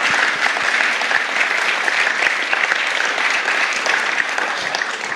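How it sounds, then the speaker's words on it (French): Warm applause from a church congregation for a pastor, steady dense clapping that fills the whole stretch without pause, loud and close, with no talk over it. "Wollen wir ihm einen herzlichen Applaus geben?"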